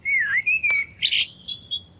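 Blackbird song in a garden at dusk: a clear, close fluting whistle followed by a few bright chirps and twittering notes against a quiet background.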